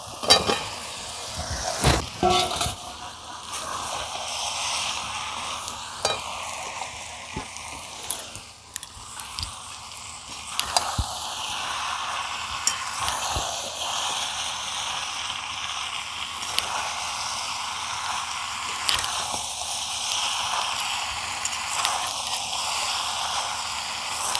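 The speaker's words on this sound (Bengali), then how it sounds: "এই পর্যায়ে আলু আর এঁচোড়টা দিয়ে পাঁচ মিনিট মতন কষাবো" Potatoes and green jackfruit frying in spice paste and oil, a steady low sizzle broken by sharp clicks and scrapes of a spatula stirring the pan, no talking.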